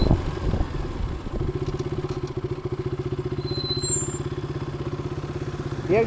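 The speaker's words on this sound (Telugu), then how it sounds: "40 స్పీడ్లో పోతుంది బండి." A motorcycle ridden at about 40, recorded on a DJI Action 2 camera, gives a steady, rapid engine throb with a low, pulsing drone and faint wind, heard close and continuous.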